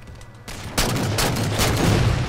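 Rapid gunfire in the video game Halo 4 on the Haven map in Infinity Slayer, a dense burst of automatic shots that starts quieter then turns loud and continuous.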